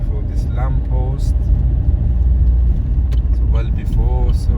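A car pulls up and parks at the roadside near a lamppost during a driving lesson, its engine a steady low rumble inside the cabin while people talk over it throughout.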